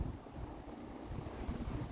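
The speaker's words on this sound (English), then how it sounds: "I don't even know if you can hear us, the wind." Wind gusting outdoors across an allotment garden in autumn, a low steady rumble buffeting the microphone with no talk, faint and continuous throughout.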